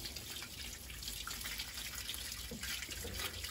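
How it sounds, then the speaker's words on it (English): A watering can pours liquid tomato fertilizer onto garden soil, making a steady close splashing and trickling stream with no talking. "we're going to give that soil a good old drenching"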